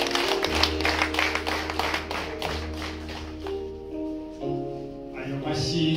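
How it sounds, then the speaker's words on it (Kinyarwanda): Guests at a Rwandan wedding dowry ceremony clap in a quick rhythmic beat, joined by high wavering ululating voices and singing that continue as the clapping fades midway. "amashyi impundu."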